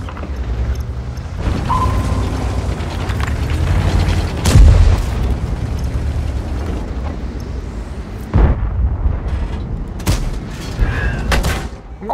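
Tank cannon shots in the online game World of Tanks: a heavy booming blast near 4.5 seconds and another around 8.5 seconds. Both stand out over a constant low engine rumble and battle noise, with no talk.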